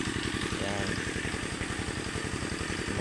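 A motorcycle engine idles at a farm with a steady, close, low chugging putter, while a person talks over it.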